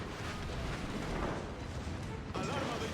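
Gun bursts from the Castilla, a tier 10 Spanish cruiser in World of Warships, land as a dense run of rumbling blasts, loud and continuous with a fresh heavy hit near the end.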